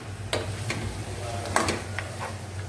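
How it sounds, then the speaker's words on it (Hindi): Beef paya fries in a pressure cooker pot while being stirred, a continuous sizzling hiss broken by several sharp spoon scrapes and clicks against the metal, close and fairly loud. "इसको मैं भून रही हूँ"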